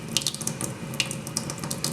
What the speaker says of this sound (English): I'm going to go ahead and just put some water on it